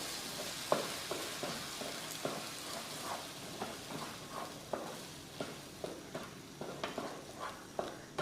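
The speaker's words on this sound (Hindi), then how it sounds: "मीडियम फ्लेम पे इसको हम 10 से 15 सेकंड अच्छे से भून लेंगे" Something roasts in a pan over a medium gas flame, with soft, regular scraping clicks of stirring over a faint hiss. The sound is quiet and close.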